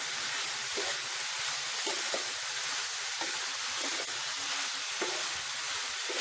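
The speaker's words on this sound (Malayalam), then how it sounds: "സോയാബീൻ ചേർത്തൊന്ന് നന്നായി മിക്സ് ചെയ്യാം." Soya chunks are stir-fried and mixed in a hot pan for a restaurant-style veg soya chilli. A loud, constant sizzle hisses throughout, broken by soft rhythmic scrapes of stirring, with no voices.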